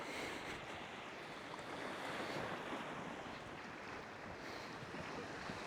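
Ocean surf rolls onto Plage de la Baume near the Giens peninsula, a steady wash of breaking waves mixed with wind rumble on the microphone, unbroken and moderately faint throughout.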